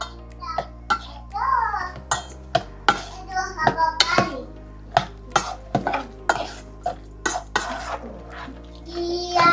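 Spam and egg are stirred together in a bowl, giving a series of sharp scraping and clinking utensil strokes in an irregular rhythm, close and fairly loud, with a few brief background noises between strokes.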